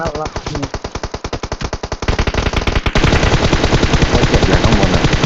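Rapid bursts of automatic gunfire in PUBG Mobile rattle loudly and continuously, growing denser and more intense toward the end, with faint voices underneath.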